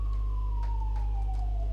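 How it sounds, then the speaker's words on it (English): A siren in the Factorio video game drones steadily in the background, a single long tone sliding slowly downward over a constant low machine hum. "We're gonna have some nice sirens in the background because that's fine."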